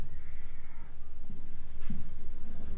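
Marker or chalk writing on a board in a classroom during a Hindi maths lesson on matrices, faint irregular scratchy strokes close by over low room hum, no talk.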